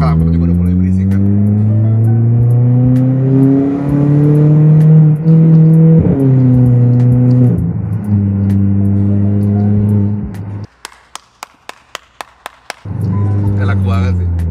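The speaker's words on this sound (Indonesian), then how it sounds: "Nah, sekarang kita masuk ke straight track ya. Kita lihat tarikan mobil ini." A Volkswagen Polo accelerates hard on a straight track, heard from inside the car. Engine pitch climbs steadily through several gears with short dips at each shift, and there is a brief break filled with clicking before the engine drone returns.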